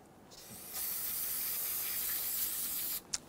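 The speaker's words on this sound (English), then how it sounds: "We're simply gonna use some spray solvent." A steady, close hiss of an aerosol can spraying solvent cleaner for about two seconds on a Toyota RAV4 3.5L V6 engine, then stopping, followed by a brief click.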